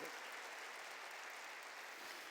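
Church congregation applauding during a sermon, a dense, even wash of many hands clapping together, steady and unbroken from start to finish.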